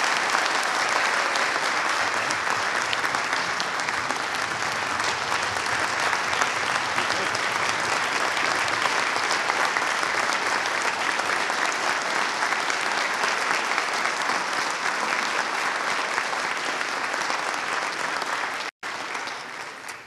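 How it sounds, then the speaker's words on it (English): A town meeting audience in Milton gives a warm round of applause, a dense and steady wash of many hands clapping that holds loud and even for about twenty seconds before cutting off abruptly near the end. "If we could offer Mr. Leonard a warm round of applause"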